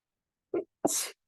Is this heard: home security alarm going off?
no